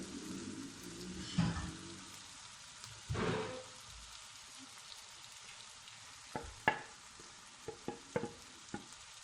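Spices stirred into Chinese fish soup with turmeric in a pan: a low sizzle runs throughout, broken by a few scraping stirs early on and a quick series of sharp utensil taps near the end.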